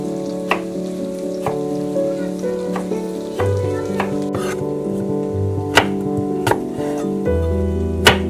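Chopped vegetables sizzling in a pan on a home kitchen stove, with a steady frying hiss and occasional sharp clinks and scrapes of a utensil stirring them, close and alone.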